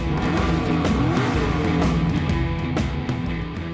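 A 1969 Ford Mustang Boss 429 in Gran Turismo 7 roars loud and close, its engine tone climbing and shifting through gear changes without a break, with no voices over it.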